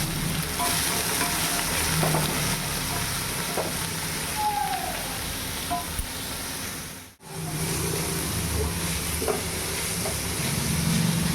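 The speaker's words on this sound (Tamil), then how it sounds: "பொறிஞ்சதும் வெங்காயம் போட்டுரும் நல்லா வதங்கட்டும்" Sliced onion fries in hot oil with cinnamon, cloves and fennel seeds for chicken curry, a continuous dense sizzle heard up close with faint stirring knocks and a brief dropout midway.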